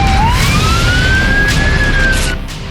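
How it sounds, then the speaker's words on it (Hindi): An ambulance siren wails across Lebanon after airstrikes, a single rising and slowly falling tone, loud and fairly close, fading toward the end with no talking. "लेबनान में हर तरफ जंग के साथ एम्बुलेंस के सायरन का शोर"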